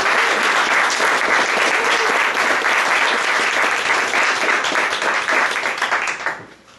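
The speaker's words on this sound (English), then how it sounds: "why don't you give a round of applause for where we are today?" A meetup audience gives a loud, full round of applause, dense clapping from many people that holds steady and then tapers off at the end.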